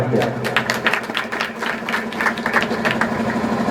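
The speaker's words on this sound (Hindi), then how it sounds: "ऐसे नौजवानों का ताली बजाकर अभिनंदन करना चाहिए।" A gathering at an anti-alcohol campaign meeting in Madhya Pradesh claps to honour young men who quit intoxicants, a steady patter of many hands over a low mechanical hum and background voices.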